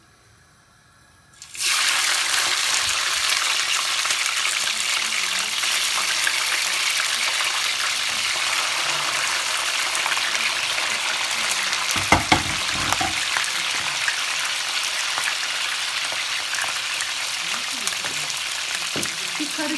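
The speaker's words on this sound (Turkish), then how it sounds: "Şimdi biberlerimizi atıyoruz." Peppers frying in hot oil in a home kitchen pan, a steady loud sizzle that starts abruptly after a quiet moment and continues throughout, with a brief clatter of utensils partway through.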